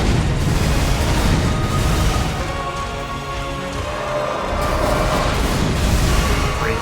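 A boss's explosion attack in Elden Ring erupts in a loud, dense burst of rumbling, crackling debris that dips briefly and then swells again, filling the whole stretch.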